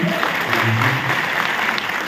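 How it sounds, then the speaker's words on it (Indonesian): Audience applause at a corporate innovation forum, a continuous crackle of clapping from a crowd with a voice murmuring beneath it. "Tepuk tangan sekali lagi."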